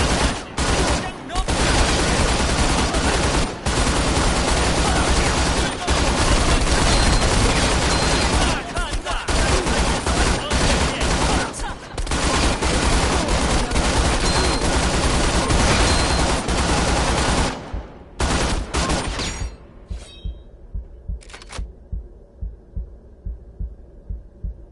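SMG fire in the Tiger Blade VR game: dense, loud bursts of automatic gunfire for most of the stretch, cut off abruptly, then fading into a few faint scattered shots over a low hum.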